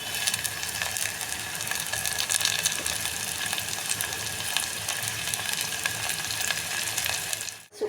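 Tomato frying in a pan with browned onion for masala dal khichdi, a loud continuous crackling sizzle with faint clinks, close up, with no voices.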